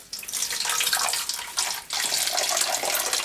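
Hydrogen peroxide pours steadily into a 1-liter bottle, a close, continuous splashing gush of liquid with a brief dip midway, no talking.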